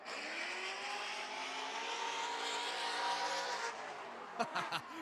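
A Corvette race car at a Great Lakes Pro-am track event screams past at full throttle, its engine note rising steadily and loud for several seconds before fading, followed by a couple of short sharp bursts near the end.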